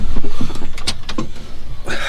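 An electric power steering pump fitted to a first-generation Chevrolet S-10 pickup switches on in a few quick whirring electric motor bursts with clicks, close by and without speech.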